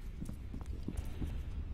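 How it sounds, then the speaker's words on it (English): Low, muffled heartbeat thumps pulse steadily in the horror game FEAR 2: Project Origin. Several soft beats sit over a dull background hum, and nobody speaks. "Heart beating."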